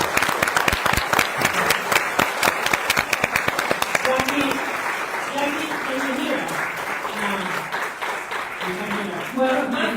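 Audience applause rises after a speech at a migrants, refugees and international solidarity event in Hackney, loud rapid clapping for about four seconds that thins out, with voices talking over the fading claps.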